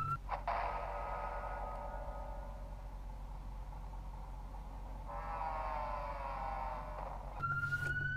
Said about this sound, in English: Look at this police car.